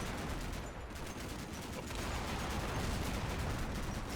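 Mark 19 grenade launcher fire in Combat Mission thumps out as a dense, rapid string of bursts, a steady rattling barrage with a short dip near the start.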